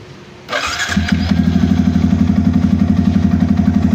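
A Yamaha MT-15 motorcycle engine starts and settles into a fast idle with a steady, rapid ticking clatter from near the spark plug cap running over the rumble, close and loud.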